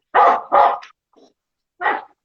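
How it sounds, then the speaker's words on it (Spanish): A small pet dog barks up close indoors, two quick barks followed by a faint yelp and one more bark after a short pause. "está mi perrito ladrando, está en vivo"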